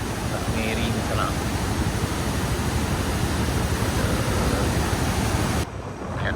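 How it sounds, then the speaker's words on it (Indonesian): The swollen Bayang river rushes past loudly and close by as a steady, dense roar of water, then dips slightly in level near the end. "Nah, ini sungai Bayang Nyalunya sana."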